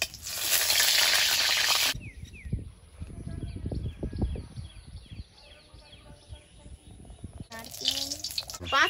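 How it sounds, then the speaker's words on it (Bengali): Halved dried red chillies crackle in hot oil in a wok with a loud, bright sizzle. The frying drops back while someone talks over the cooking, then flares up again near the end. "তেলের মধ্যে দিচ্ছি দুটো শুকনো লঙ্কা হাফ করে"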